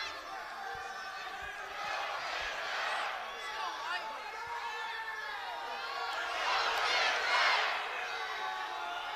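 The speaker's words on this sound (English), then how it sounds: "You hear the Go Big Red chant going on from the Husker faithful." Husker faithful in a packed Nebraska arena chant during a wrestling meet against Ohio State, a rolling crowd roar that swells twice, with a commentator talking over it.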